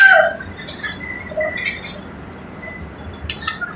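Pigeons in a breeding cage, soft low cooing with scattered chirps and a few wing flutters, close by, with no talk.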